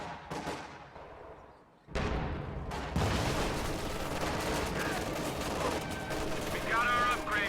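Rapid gunfire and explosions erupt around a Sherman tank in a World War II video game, starting with a few sharp shots and then building into a dense, continuous barrage as a voice calls out over it.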